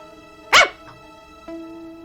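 One sharp, loud bark, voiced by a person imitating a dog, is followed by a faint short yip and then a steady hum.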